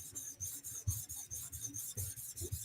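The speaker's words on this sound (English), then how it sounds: "it's polishing the top of the bevel right now" A knife bevel is polished against a sharpening stone in steady back-and-forth rasping strokes, close and fairly quiet, with no voices.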